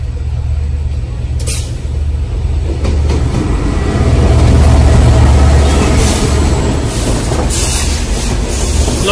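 Passenger train on Bangladesh Railway, hauled by locomotive 6630, rolls past a level crossing with a sustained loud rumble, wheel clatter and brake hiss, close by throughout.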